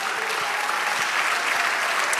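A church congregation claps together in steady, dense applause, loud and sustained from start to finish.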